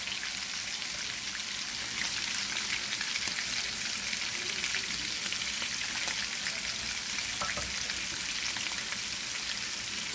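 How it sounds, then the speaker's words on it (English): Four cloves of garlic sizzle in hot oil alongside okra for a shrimp dish, a steady dense crackle of frying that holds evenly loud and close throughout, with no voices over it. "It's going to keep on frying with the okra."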